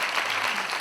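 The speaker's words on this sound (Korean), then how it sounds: "우리 김지훈 마스터의 큰 박수 부탁드리겠습니다" A studio audience claps for a guest on a Korean talk show, a brief burst of dense applause heard alone.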